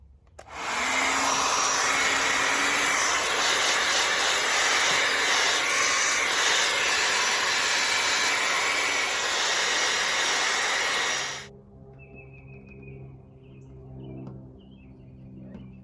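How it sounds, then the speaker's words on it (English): A hair dryer blasts a steady loud whoosh onto a decal on a 2016 Jeep Freedom Edition, running continuously for about ten seconds before cutting off into quiet room tone. "I'm gonna hit it with the hair dryer again."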